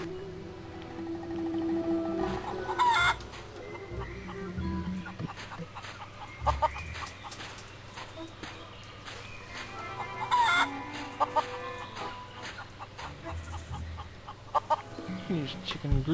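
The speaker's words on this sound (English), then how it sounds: "Let's head back to the beach with all the chickens on it." Chickens clucking and a rooster crowing on a beach in the adventure game The Curse of Monkey Island, a busy flock of overlapping clucks and squawks over a steady background ambience.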